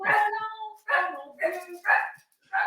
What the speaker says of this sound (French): Elle jappe de mon bar aussi.